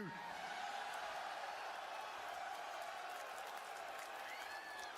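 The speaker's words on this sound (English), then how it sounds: "rowdy crowd right here" A rowdy wrestling crowd at an NXT broadcast roars and cheers in a steady, dense wash of noise with scattered whoops, loud and continuous throughout.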